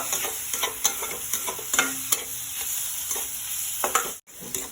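Loud, steady hiss of spices, including coriander powder, frying in a pan, punctuated by repeated scraping stirs and a short pause near the end.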